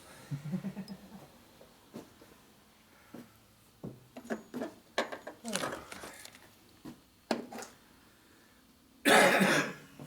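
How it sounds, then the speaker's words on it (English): Several harsh, raspy smoker's coughs and throat-clearing bursts scattered among muffled voices and rustling, ending in a louder burst of noise. "That's smoker's cough, man"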